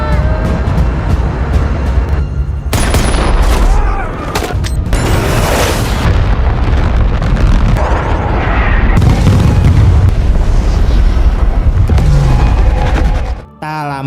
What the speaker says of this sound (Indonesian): Tak lama kemudian, serangan udara yang dikirim oleh Kapten Eddie akhirnya tiba.